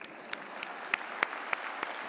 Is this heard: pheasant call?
no